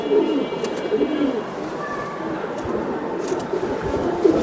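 A pair of Giribaz pigeons offered for sale coos in low, murmuring phrases close up, steady under faint background chatter.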